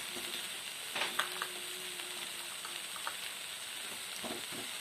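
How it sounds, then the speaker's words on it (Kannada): A spoon stirs a sweet mixture of sour mango and jaggery in a pan, giving a soft, steady sizzle with occasional light scrapes and taps against the metal, close by and continuous. "ಇವಾಗ ಚೆನ್ನಾಗಿ ತಿರುಗಾಡ್ಕೋಬೇಕು ರೀ"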